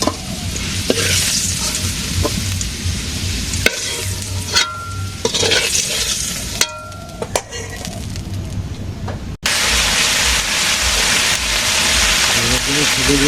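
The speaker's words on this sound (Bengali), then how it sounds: "মাছ ভাজা হয়েছে আলু একটু বেঁধে নিলাম" Fish and potatoes frying in a village kitchen make a strong crackling sizzle, repeatedly cut by clattering stirs and scrapes of a spatula. A loud hiss surges near the end, close by.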